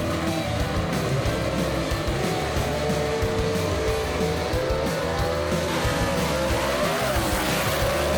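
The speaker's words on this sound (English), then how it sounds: "Oh, we got a drag race here, folks." Gasser-class drag race cars roar down the strip at Knoxville Dragway, a continuous loud engine blare with shifting revs and some tire noise, heard steadily throughout with no talk over it.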